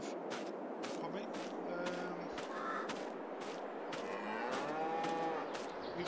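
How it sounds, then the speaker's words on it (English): Friesian dairy cows mooing in a Farming Simulator 22 farmyard, low calls rising over a steady bed of farm ambience, with crows cawing and faint periodic beeping in the background. "some dairy cattle, so we've got, 5 cows and 1 bull, or Friesian"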